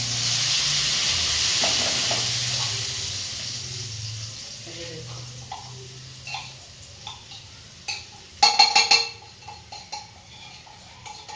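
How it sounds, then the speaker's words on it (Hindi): Chutney sizzles and cooks in a pan, a steady hiss that fades over several seconds, followed by sharp clinks and scrapes of a utensil against the pan near the end. "बस अब इसे पका लेना है थोड़ा सा, और चटनी रेडी मेरी।"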